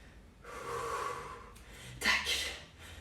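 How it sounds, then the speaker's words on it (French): Heavy exercise breathing during a workout, a long forceful exhale followed by a sharp, gasping intake and a softer snort-like breath, close and fairly loud with no talking. "On maîtrise sa respiration"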